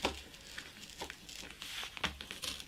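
A Stanley knife blade scraping and slicing through a crinkly material, with short rasping strokes and soft crackles, close by.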